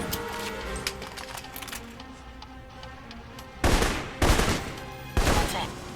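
Rifle gunfire in a video game, first a scatter of faint, distant pops under background noise, then three loud, close bursts of rapid shots.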